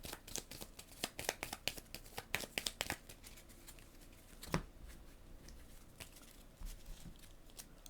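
Playing cards are shuffled in a rapid flurry of crisp riffles and snaps over a tabletop during a solo session of the board game Leviathan Wilds, then slow into a few scattered taps and rustles.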